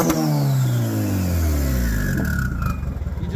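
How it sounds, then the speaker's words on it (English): A budget-built turbocharged Honda Integra engine revs hard and sweeps down while the turbo spools with a rising whistle, loud and close throughout, ending in a rougher, pulsing idle. "Well, I figured out how to get the turbo to spool."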